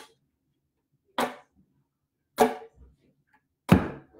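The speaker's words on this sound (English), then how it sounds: "that's the sound of your nails and your skin hitting the strings" Three separate ukulele strums spaced about a second apart, each a bright percussive brush of nails and fingertip skin across the strings, close and clear against silence.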